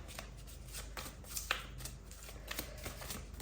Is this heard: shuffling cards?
yes